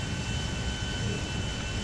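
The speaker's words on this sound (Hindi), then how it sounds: "ये प्लेन यहाँ पर खड़े होने के लिए ही आ रहा है।" An airplane arriving in the video game GTA V gives off a steady, loud engine roar that rumbles evenly throughout, with no voices over it.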